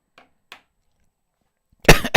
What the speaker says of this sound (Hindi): बहुत ही खांसी आ रही।